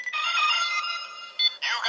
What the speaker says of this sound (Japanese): You got the mail のメール着信音。